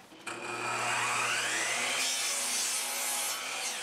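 A saw cuts through wooden boards set against a stop block, a sustained close rasping whine that starts abruptly and holds steady for several seconds, with no voices.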